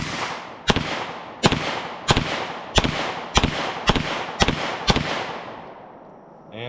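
Kimber 1911 Next Generation pistol firing hollow point rounds, eight sharp loud shots at a steady, roughly half-second pace, each ringing out with a short echo, followed by a faint metallic clack.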